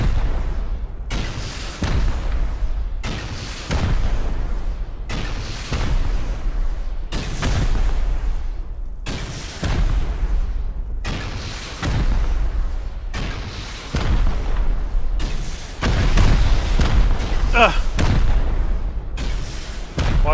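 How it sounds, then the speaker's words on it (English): Incendiary rocket explosions in the survival video game Rust, a run of heavy booming blasts arriving roughly every one to two seconds, each a loud deep burst with a rumbling tail. "Watch out, I got an incendiary rocket back there."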